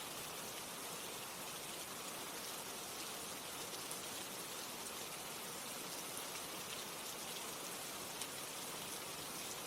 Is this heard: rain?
yes